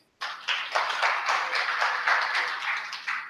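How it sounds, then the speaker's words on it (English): An audience claps for the speakers at a talk event: a burst of applause that starts abruptly and holds steady for about three seconds, moderately quiet and somewhat distant, with no voices over it. "Applause for them, please."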